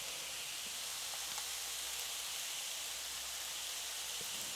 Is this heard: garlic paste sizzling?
yes